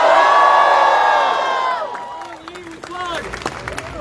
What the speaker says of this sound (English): So big round of applause for all of us.